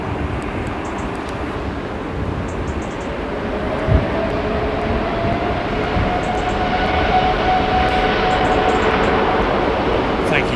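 Airliner jet engines at an airport, likely Rolls-Royce Trent powered, roar loud and steady close up, a continuous broadband rumble with a rising whine building through the middle and a brief thump near the start.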